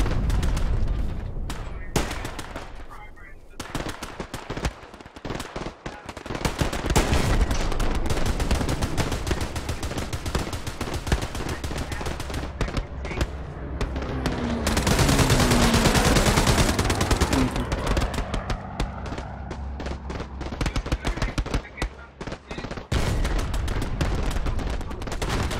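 Heavy machine gun fire in the Hell Let Loose video game on Utah Beach, long sustained bursts of rapid automatic shots with booming impacts, loud and continuous with brief pauses between volleys.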